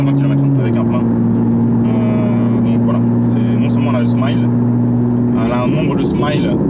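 Porsche 911 GTS phase 2 with a 3-litre turbo engine, driving with a loud steady drone that shifts pitch slightly early on, while a person talks over it throughout.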